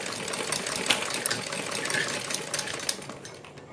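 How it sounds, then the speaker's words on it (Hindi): A sewing machine stitches a neck design on fabric, running as a steady, fairly quiet mechanical whir for the whole stretch with no talk. "हम बीच में एक बड़ी सिलाई लगा देंगे।"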